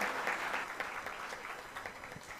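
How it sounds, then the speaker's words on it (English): Conference audience at an international development summit gives steady, continuous applause for a speaker, a moderately distant wash of many hands clapping with no talk over it. "please give a big round of applause for such an eminent personality amongst us"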